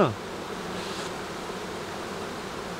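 Honeybees hum steadily around an open hive in Quebec, a dense, even buzz that stays constant and close throughout.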